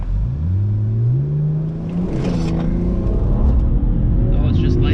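A BMW 335i with a Cobb Stage 1 tune launches from a standstill on a 0-60 run, engine note climbing loud and close through rising revs with tyres spinning, a voice talking briefly over it.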